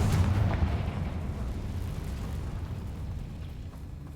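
A Confringo fire spell bursting in the video game Hogwarts Legacy, a single heavy explosive boom at the start that rumbles and slowly decays over several seconds, with no talking.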